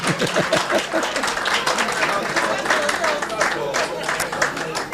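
Clapping from an audience at a talk on critical thinking, fairly dense and continuous, with a voice speaking over the applause throughout.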